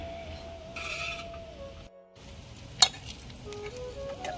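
Whole spinach leaves frying for Marathi palak bhaji, a steady soft sizzle with light stirring and one sharp clink of a utensil near the middle, close up with no talking.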